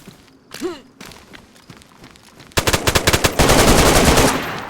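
Rapid bursts of gunfire in the video game DayZ, loud and close, firing in quick repeated volleys after a brief quieter stretch with a few soft thumps.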